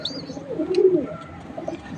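A pigeon with its young chicks makes soft, low cooing calls, close and clear, with a faint higher chirp near the start and little else around it.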